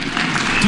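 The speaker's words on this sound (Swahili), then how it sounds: "na bodi iko hapa, muwapigie makofi" A crowd at the ODM National Delegates Convention in Kenya claps loudly in a brief burst of applause, with a speaker's voice mixed in over it.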